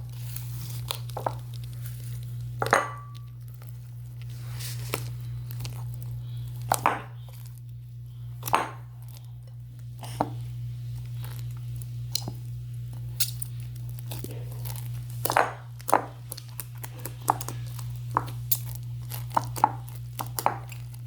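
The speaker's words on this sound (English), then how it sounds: "That was our ASMR clip where we put foam beads," Sticky slime mixed with foam beads squished up close, a series of soft crackling, crunching pops at an irregular pace over a steady low hum, with no talking.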